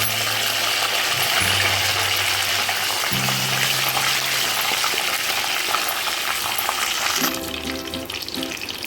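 Curry leaves fry in hot oil with a loud, steady crackling sizzle close by, joined by dry red chillies, with stirring and scraping under it; the texture thins out and changes near the end.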